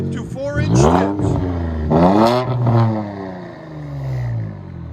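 Exhaust of an Infiniti Q50 S with true dual 1.75-inch straight pipes into 4-inch tips rises and falls through several loud, raspy revs, close up, with an idle rumble between the blips.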